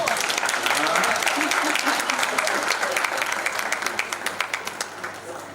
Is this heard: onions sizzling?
no